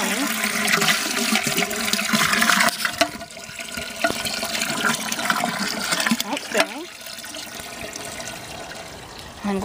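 A 1925 Standard Devoro low-tank toilet refills with water through its original fill valve, a steady close hiss and rush of running water that softens partway through, with a few small clunks and no talk.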